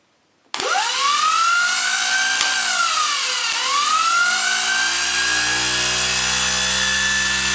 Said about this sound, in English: Can you see the rotor spinning round?